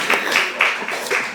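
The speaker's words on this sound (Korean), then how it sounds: "이럴 때 박수 한번 쳐주세요." Members of a church congregation clapping during a Wednesday service, a handful of distinct rhythmic claps spaced evenly over a second or so, close and moderately loud.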